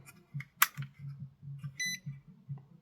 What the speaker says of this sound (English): Still get the beeps.